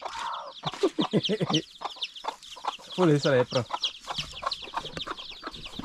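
Loose farm chickens cluck repeatedly and close by as people talk and try to catch them, with bursts of hen calls and busy clucking throughout.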